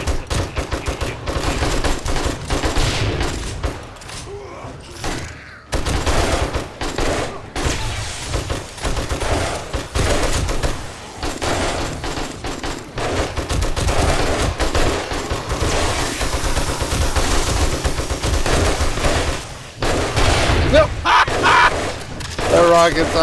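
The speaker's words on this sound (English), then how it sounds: "That rocket's awesome." Rocket blasts and heavy gunfire in the 7 Days to Die video game, wasteland biome, with zombies attacking a base: dense, continuous volleys and booms, loud and sustained, with voices talking over the din throughout.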